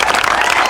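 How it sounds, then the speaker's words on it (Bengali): Quick burst of hand clapping during a counting game with a small child, dense and close, lasting under a second. "হাততালি।"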